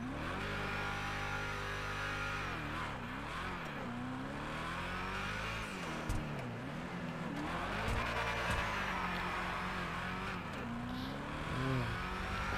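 In GTA V, a Vapid Hustler car's engine revs and drones loudly, its pitch rising and falling across several surges, with tire squeal and skidding mixed in as the car is driven hard.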